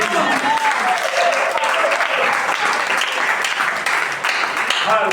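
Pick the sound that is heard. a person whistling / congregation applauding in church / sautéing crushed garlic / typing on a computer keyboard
congregation applauding in church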